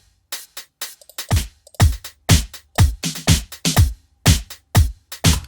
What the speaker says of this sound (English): I added an open hat on every kick and every snare